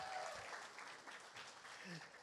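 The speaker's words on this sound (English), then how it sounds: "Round of applause for that, ladies and gentlemen." Quiet, distant applause from a convention costume contest audience, steady clapping with a few faint voices mixed in.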